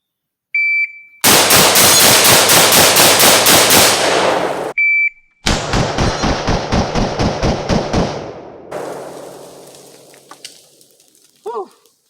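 An M14 rifle fires 11 rounds in rapid succession into dirt, loud sharp cracks in two quick bursts with a brief pause between, each shot ringing out before the sound trails off.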